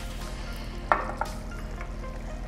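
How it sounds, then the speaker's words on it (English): Pottage simmers in a pot with a steady low sizzle as palm oil goes in, marked by a brief metallic clink and a softer second knock. "So now I add the oil, the palm oil."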